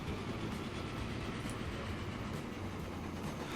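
Trains running in the game Transport Fever, a steady low rumble and rolling rail noise at an even, moderate level with no voices.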